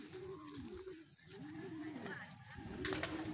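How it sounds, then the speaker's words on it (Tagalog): Pigeons at a racing loft coo softly and repeatedly in the background while someone talks nearby; the sound is quiet overall. "Training lang pangatlo nating ibon."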